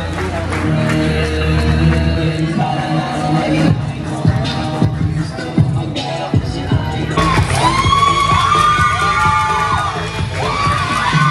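A crowd claps and cheers for a player at a Kings of the Court basketball event in Japan, loud and sustained, with shouts, whoops and children's voices throughout and speech mixed in.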